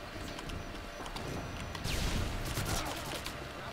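ACR rifle gunfire in Call of Duty: Modern Warfare 2 comes as rapid bursts of crackling shots amid other game noise and impacts, fairly quiet overall.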